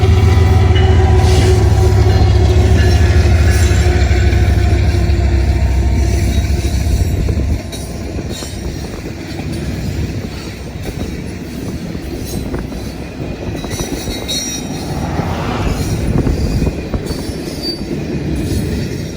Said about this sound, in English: seeing a westbound intermodal train coming in